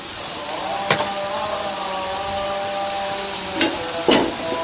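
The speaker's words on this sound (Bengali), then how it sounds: "আর আমি দিয়ে দিলাম হাঁড়িতে একটু কাঠ, এলাচ, ভালো করে একটু নাড়িয়ে" Cinnamon and cardamom are stirred in a cooking pot, giving a steady sizzling hiss with occasional scraping clinks of the spoon against the pot, close and continuous with no talking.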